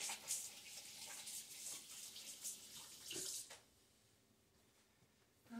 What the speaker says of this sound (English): now what I'm going to do is just take this and rinse my hand off real quick